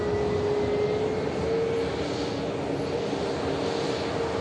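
A Canadian Air Force Hercules rolls along the runway after landing at an airport, a steady, loud broadband roar with a faint tonal engine whine holding through the whole stretch, no voices over it.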